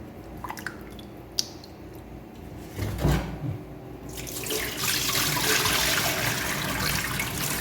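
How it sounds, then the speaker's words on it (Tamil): Rinse water drains off rice that has already been washed two or three times for Tamil Nadu kushka biryani, and then the rice is tipped in. Close splashing and trickling grow into a steady, louder wet rush in the second half. "இப்போ இந்த தண்ணியை மட்டும் ட்ரை பண்ணிவிட்டு அப்படியே போட்டுடலாம் நண்பா"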